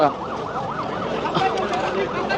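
An army ambulance siren wailing in a steady rising-and-falling cycle at an airport fire rescue, fairly loud and continuous, with traffic and crowd noise underneath.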